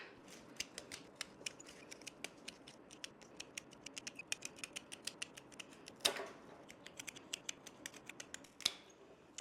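Scissors or shears snip along a very thorny rose stem, giving many quick, faint, close clicks in irregular bursts, with a few louder cuts standing out.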